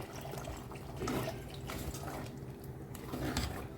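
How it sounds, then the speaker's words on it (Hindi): Water is poured into simmering Goan-style chicken xacuti gravy in a pot, making a soft, faint splashing trickle in short bursts, with no talking. "हमें इसमें ना पानी ऐड करना है।"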